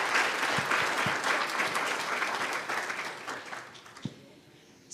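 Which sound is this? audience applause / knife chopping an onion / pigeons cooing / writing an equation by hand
audience applause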